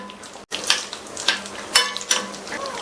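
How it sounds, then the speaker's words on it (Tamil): Cashews roasting in ghee for a sweet payasam, giving a soft, steady sizzle with several brief scraping stir sounds and one short silent gap near the start. "சேர்த்த இந்த முந்திரி எல்லாம் லைட்டா அதனுடைய கலர் மாதிரி வறுபடட்டும்"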